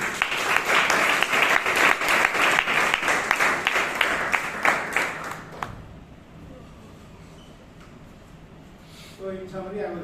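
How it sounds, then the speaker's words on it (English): A round of applause from the audience at a Bangalore Toastmasters club meeting, with dense, steady clapping for about six seconds that fades out, followed by quiet room sound and a faint voice. "Round of applause to Girish, please."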